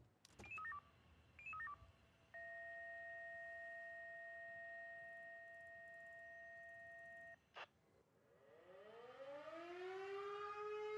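Electronic fire station alert at Wache 11 in Lüdenscheid: a few short beeps, then a long steady tone lasting about five seconds, followed by a loud siren winding up and rising continuously.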